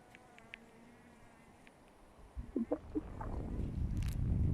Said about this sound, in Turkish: Bakın bunlar farklı farklı arılar var.